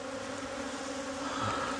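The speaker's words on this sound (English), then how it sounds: "More bees are coming home." Steady buzzing of many honey bees around a hive, a continuous droning hum that swells slightly near the end, with no voices.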